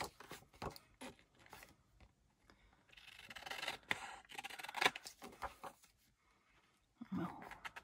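An image is cut across a line at a desk, with soft scissor snips and rustling paper coming in irregular bursts, close and quiet, and a few louder scrapes in the middle.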